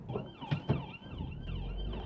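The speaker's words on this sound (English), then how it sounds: "Oh no, it's the ambulance." An ambulance siren wails, rising and falling at a distance, with a Honda Civic Mk8 engine rumbling close by beneath it.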